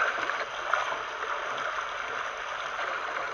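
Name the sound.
waterfall water on a jungle boat cruise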